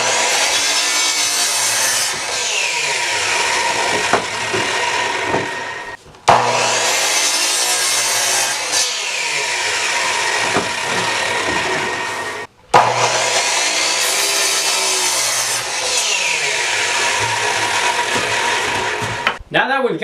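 A saw cuts three wooden pieces for a floating shelf in long, loud, steady passes, each cut ending with a brief pause before the next begins.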